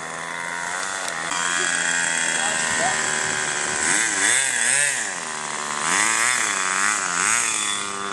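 A model airplane engine runs steadily at a grassy flying field, a high buzzing whine that swells and dips as the throttle is worked, close and loud throughout.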